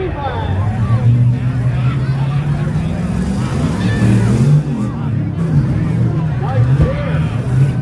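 Four-wheel-drive trucks racing at a Tuff Trucks event, with engines droning and revving under loud crowd noise and people talking throughout.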